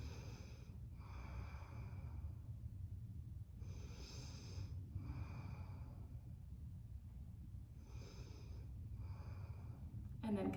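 Slow, deep breathing held during a standing yoga side bend, with audible inhales and exhales repeating in a steady cycle, close and soft over a low background hum.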